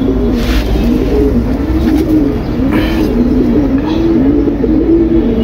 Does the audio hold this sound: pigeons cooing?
yes